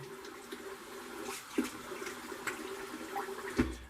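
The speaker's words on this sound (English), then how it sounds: "Let me rinse my face real quick." Water runs from a bathroom sink tap while a face is rinsed, a steady close flow broken by splashes and a few knocks.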